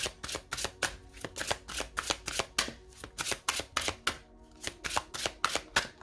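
Tarot cards being cut and shuffled by hand for an Aries reading, a close, steady run of crisp papery riffles and snaps repeating roughly twice a second with no talking.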